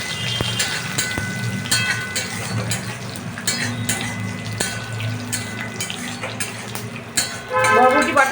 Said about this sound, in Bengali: এবার আমি এটাকে ভাজতে থাকলাম।